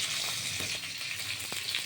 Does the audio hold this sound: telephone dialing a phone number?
no